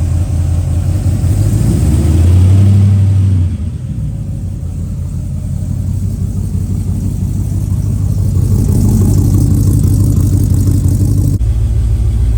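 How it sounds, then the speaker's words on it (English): A 1971 Chevrolet Cheyenne Super K20 truck engine running after restoration, a loud close steady rumble that swells briefly early on and then settles into an even idle. "it sounds good. The motor's nice and quiet."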